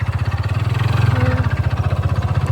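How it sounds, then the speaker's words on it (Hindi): A tractor engine chugging close by on a rural track near a river, a loud steady rhythmic putter that holds throughout with no talking. "ट्रैक्टर आ रही है"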